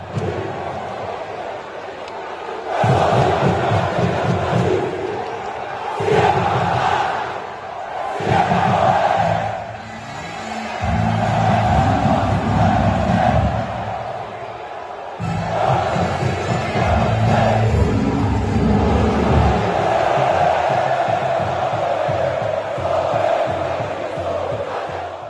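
Vitória football supporters chanting in a stadium, a large crowd singing rhythmic chants in loud repeated bursts that rise and drop over about twenty-five seconds, with brief quieter gaps between phrases.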